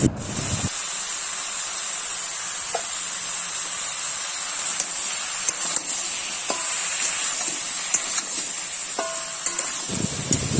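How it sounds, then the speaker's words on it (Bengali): Home-grown ridge gourd dusted with turmeric sautés in a hot pan, giving a steady, close sizzle and hiss throughout, with a few faint clinks from stirring. "আবারও নেড়ে চেড়ে কষিয়ে নিচ্ছি"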